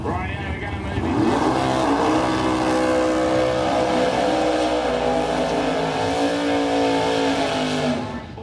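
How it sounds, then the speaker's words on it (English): A 1967 Chevrolet Camaro with a 500 cubic inch Chevy engine does a burnout at a drag strip, its loud, sustained engine roar rising after a second and holding steady with tire squeal until it fades near the end, under a commentator's voice. "Laid quite a tough burnout in the 500 cubic Chevy down there."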